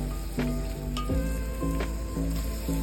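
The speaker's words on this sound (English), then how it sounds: "heat oil in a pot and then saute the onion" Chopped onion sautéing in hot oil in a pot, a steady soft sizzle with a few light stirring scrapes and clinks at intervals.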